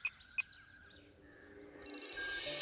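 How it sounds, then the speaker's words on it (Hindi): A telephone rings while a call is being placed, giving faint chirpy tones followed by a steady electronic ringback tone that grows slightly louder toward the end, with no talking. "मैं फोन करके बात करती हूँ।"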